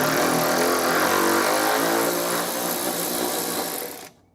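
A power tool, likely an impact driver or drill, loosens a bolt through undercoating on the threads during passenger fender removal on a Dodge Coronet crew cab, whirring steadily and loud for about four seconds before stopping abruptly.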